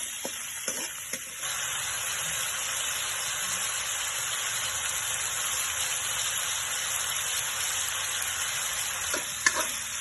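Pechay greens fry in a large pan with a steady, dense sizzle and hiss, broken by a few light utensil clinks near the start and end.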